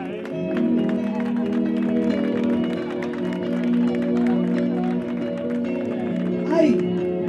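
A crowd at a local running race applauds the trophy winners, steady clapping under a speaker's voice, with a brief cheer rising near the end.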